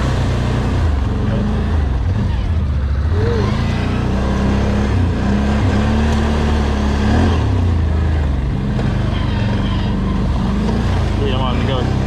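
A new 2020 Can-Am Outlander 650 XMR ATV drives through light mud, its engine a loud, steady drone that rises and falls slightly through the run, with someone talking over it.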